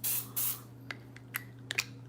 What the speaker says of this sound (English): it's my deodorizer spray.